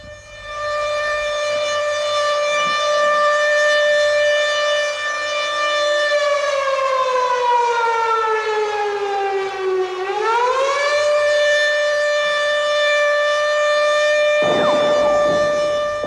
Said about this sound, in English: for the first air raid siren.